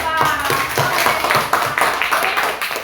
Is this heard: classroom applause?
yes